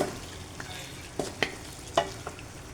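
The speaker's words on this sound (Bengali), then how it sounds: "আমি এখানে মাটনগুলোকে অল্প অল্প দিয়ে দেবো মাটনটাকে নেড়ে ছেড়ে দেবো" Mutton pieces go into a pan of browned onions, giving a soft frying hiss and a few quick scrapes and taps from a stirring spoon.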